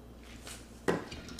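A lid set on a crock pot holding chicken and pineapple, one clear clatter of lid meeting pot after a quiet stretch, then a lighter knock at the end.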